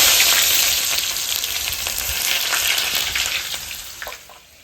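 Sliced onion hits hot oil in a kadai and sizzles loudly with a bright, crackling hiss, occasional stirring scrapes, the frying fading somewhat toward the end; no one speaks.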